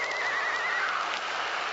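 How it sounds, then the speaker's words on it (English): A horse neighs in a long, high whinny that wavers and drops in pitch, heard clearly and close, in a vintage horror radio drama. "A horse."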